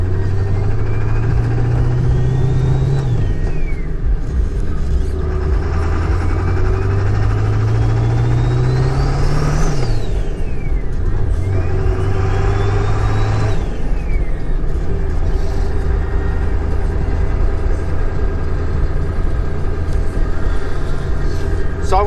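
2000 Ford 7.3 turbo diesel pickup on a morning drive, a loud, close, low diesel rumble that rises and falls with repeated gear changes, turbo whine climbing and dropping in pitch with each pull, continuous throughout.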